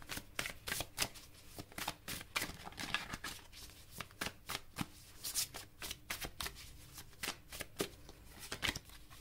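Tarot cards are shuffled by hand in rapid riffling bursts, close and soft, repeating in a steady rhythm with no one speaking.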